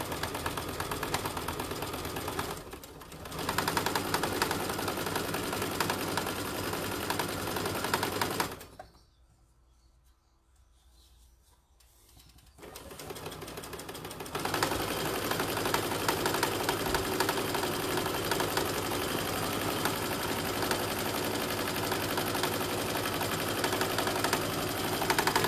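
A sewing machine stitches along a fabric edge for an apron, running in long steady bursts of rapid mechanical clatter, pausing briefly for a few seconds of near silence before resuming at full speed.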